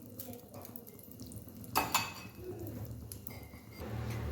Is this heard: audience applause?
no